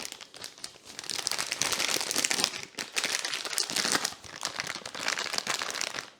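Plastic piping bag being snipped at the tip with scissors and pressed down before filling with white chocolate frosting, a continuous close crinkling and rustling of the plastic with brief pauses.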